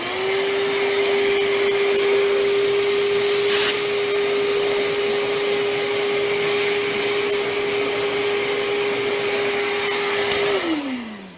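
A vacuum cleaner runs steadily at close range with a loud, constant motor whine, then winds down at the very end.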